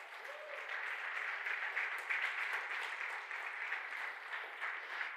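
Congregation applauding during a church service, a steady, sustained clapping that fills the room, fairly soft and distant, with no talk over it.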